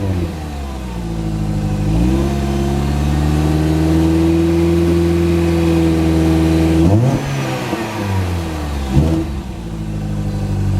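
A Mini Cooper engine revved from cold, its exhaust note droning steadily and loud at raised rpm, dropping back toward idle near the end of each of two long pulls, with no talking.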